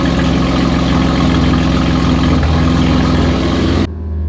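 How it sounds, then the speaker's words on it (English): 2018 Camaro ZL1 with Kooks headers and AWE Tuning exhaust idling, a loud, deep, steady burble close by that cuts off abruptly near the end. "We got that one idling and this one idling."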